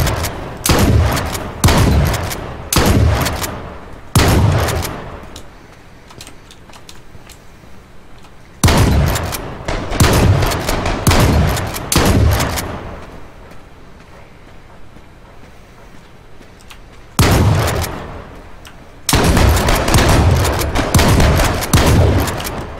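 Gunfire from a video game gunfight: repeated loud bursts of rapid shots come in three clusters, each separated by a quieter stretch of low background rumble.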